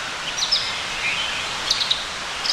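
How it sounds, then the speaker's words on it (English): Faint birds chirp and tweet in the distance on a morning at a campsite in Ravensburg State Park, Pennsylvania, a few short high calls scattered over a soft, steady background hiss. "just listen to birds singing"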